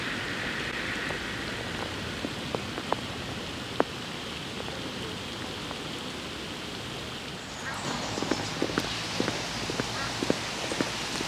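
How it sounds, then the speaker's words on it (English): Steady rain patters on surfaces around floodwater in Grange-Over-Sands, a constant hiss with scattered sharp drops that grows heavier and closer partway through. "the main cameraman had to run through the rain from that side to this side"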